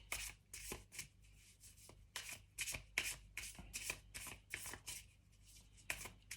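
Tarot cards shuffled by hand in a series of quick riffling bursts, close and fairly quiet, with short pauses between the shuffles and no talking.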